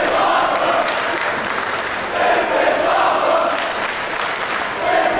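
A wrestling crowd roars and chants throughout a match between Ricochet and Sami Callihan after both men go down. The sustained crowd noise is loud and swells in waves, with no clear talk on top.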